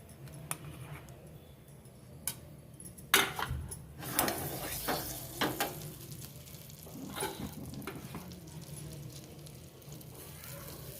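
A spoonful of butter, heated and poured into flour for traditional Indian flour snacks, sizzles up close, with scattered clinks and clatter of pans and utensils in the mix.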